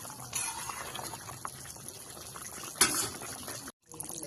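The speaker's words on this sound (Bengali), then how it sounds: "মাছগুলো ভালোভাবে ফুটতে শুরু করেছে।" Koi fish bubbling in a thick gravy for tel koi, a steady low simmering hiss with soft bubbling pops and one sharper sizzle burst, faint and close, no voices.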